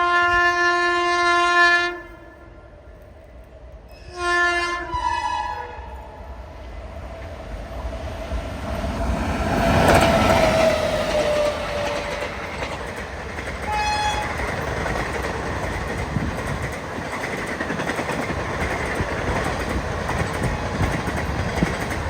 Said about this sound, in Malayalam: ഇനിയിപ്പം ചെന്നൈ മെയിലൊക്കെ വരാനുണ്ട്